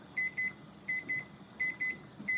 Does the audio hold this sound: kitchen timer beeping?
yes